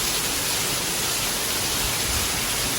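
Heavy rain pours down outside a house in the US, making a dense, steady, loud hiss with no pauses and no voices.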